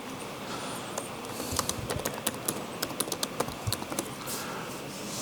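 Keystrokes on a computer keyboard during a live coding demo at a cloud-native conference, a steady run of crisp clicks over room hum, picking up pace midway.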